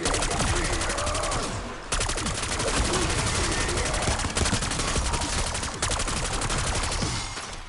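Rapid automatic fire from a PPSh submachine gun in the Black Ops 6 Zombies mode, a dense continuous stream of loud shots with brief pauses between bursts, layered over game effects.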